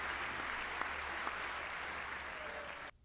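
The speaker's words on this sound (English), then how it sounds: "Clap for that." Steady, dense applause holds at an even level for about three seconds and then cuts off abruptly near the end, with no clear voices over it.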